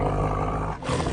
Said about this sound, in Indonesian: mengancamnya dengan serigala yang menggeram di depan matanya